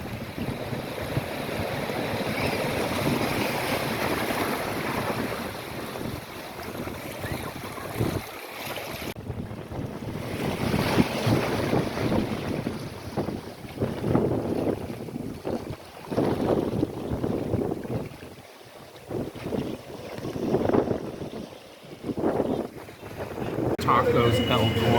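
Ocean waves on a beach washing in under heavy wind buffeting the microphone, a continuous rough surf wash with a voice talking over it at times.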